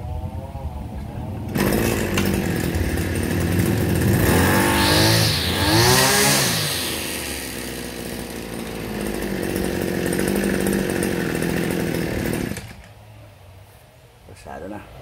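A repaired small grass cutter engine starts up and runs loudly and strongly for several seconds, revving up and settling to a steady drone before cutting off abruptly.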